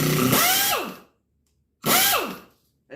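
A Harbor Freight Earthquake impact wrench runs in forward in two loud, close bursts, each whirring up to speed and winding down with a falling pitch, separated by silence, with a third start at the very end.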